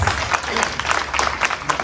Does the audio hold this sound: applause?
yes